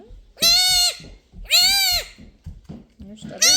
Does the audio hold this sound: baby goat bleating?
yes